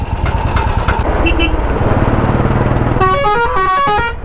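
Bus horns blare repeatedly in busy city traffic in Visakhapatnam, loud and close over the rumble of a Royal Enfield Classic 350 motorcycle engine, with a rapid burst of insistent honks near the end.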